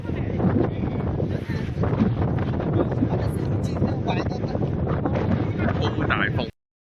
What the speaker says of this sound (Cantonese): 依家戴咗口罩係因為周圍太大風，一講嘢就全部係沙